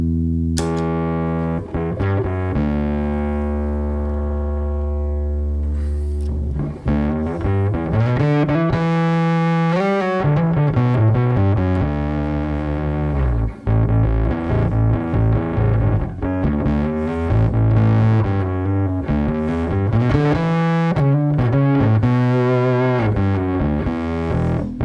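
A bass guitar plays through heavy distortion, sustained fuzzy notes sliding and shifting in a continuous loud, gritty line with no talking.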